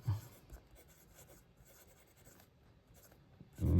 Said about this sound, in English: This pen writes really well.